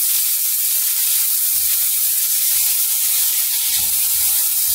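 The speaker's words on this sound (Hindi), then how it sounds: "ज़्यादा देर हम इसको फ्राई नहीं करेंगे, बस थोड़ा सा सौते करेंगे" Onion, green chili and ginger garlic paste sautéing in hot oil make a loud, continuous hiss with faint stirring knocks underneath.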